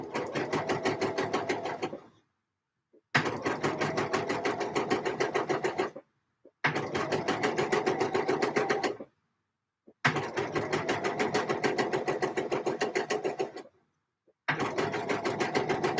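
A sewing machine stitches a buttonhole on a dress, with five rapid, even bursts of stitching separated by short silent pauses, close and clear.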